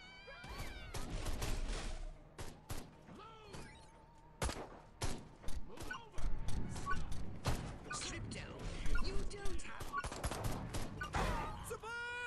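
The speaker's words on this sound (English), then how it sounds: "Anyone gonna throw a grenade at me? I'm using grenades!" Grenades and gunfire erupt in the Destroy All Humans video game: dense, irregular bursts of shots and blasts crackle throughout, close and busy, with faint game sounds mixed in.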